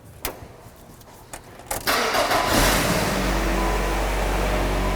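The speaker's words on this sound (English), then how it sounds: "Let's see if it starts up and runs without a check engine light now." A 2003 Nissan Sentra cranks with a few faint clicks and brief churning, then catches at about two seconds and settles into a steady, loud, close idle that runs alone to the end.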